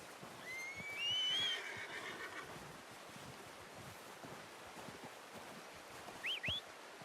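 Horse neighing in the open-world western game Red Dead Redemption 2, a brief distant whinny over wind and surf-like ambience, followed later by a second short squeal.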